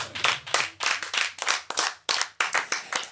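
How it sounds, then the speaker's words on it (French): A lone presenter claps for himself in quick, loud, close handclaps, roughly a dozen in an irregular run with brief gaps, no other voices. "Et bah je m'applaudis tout seul."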